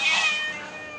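A temple cat at Wat Pong Chai in Chae Hom, Lampang, lets out a single drawn-out, high meow that is close and clear, fading over about a second with no talk.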